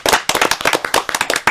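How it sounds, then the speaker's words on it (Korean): Audience applause at a Korean Christmas labor concert, a short close burst of brisk, uneven hand claps from a small crowd. "박수 한번 쳐드릴까요?"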